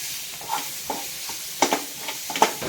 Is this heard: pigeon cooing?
no